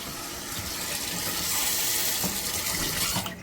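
A faucet runs steadily with cold water during a home viewing, a continuous close splashing gush into a sink that holds for the whole stretch and cuts off sharply near the end.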